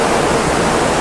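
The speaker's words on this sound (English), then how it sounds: "Come to the base of a little weir." Water pours over a small weir in an underground river tunnel. The rushing is loud, close and continuous, with no voices.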